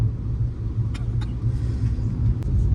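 A car driven on a road on a rainy-season trip toward Raigad gives a steady low rumble from inside the cabin, with a few faint clicks and no talk.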